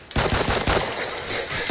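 Rapid automatic gunfire in Call of Duty Ghosts multiplayer, a dense burst of close, loud shots fired in quick succession that then carries on as a steady rattle with no talk.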